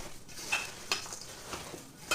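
Meatloaf ingredients being mixed with beaten eggs in a bowl, soft wet squelching and a few light clinks of a utensil against the dish, quiet and close.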